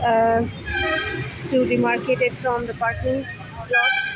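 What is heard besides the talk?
roadside vehicle horns honking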